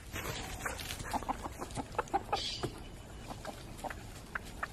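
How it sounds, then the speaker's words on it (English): A bantam Silkie rooster clucks among hens in a yard, giving a run of short, close clucks in an uneven rhythm, with faint background noise. "That's my rooster, by the way. It's a bantam silky."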